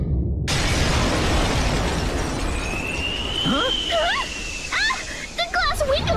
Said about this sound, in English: The glass window's all shattered!